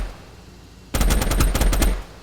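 Rapid small arms gunfire striking a tank in the game Teardown, a dense, loud automatic burst of about a second after a quiet lead-in.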